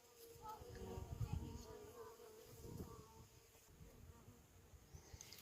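Yellow wasps and honeybees buzz steadily up close, with a dense, continuous drone that swells and fades as insects move about; faint voices are heard in the background.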